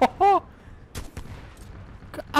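Sharp gunfire and explosive bursts from a Titanfall 2 match, with loud shouted exclamations opening and closing the clip and several short punchy impacts in between.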